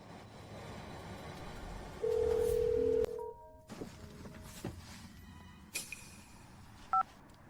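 Someone dials a telephone: a long steady keypad tone, then a few clicks and knocks, and finally a brief double beep, heard alone in a quiet room.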